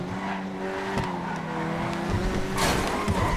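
Tire skid from an Ocelot Locust braking hard in GTA Online, a sustained squeal over a droning engine that flares into a louder burst of noise near the end.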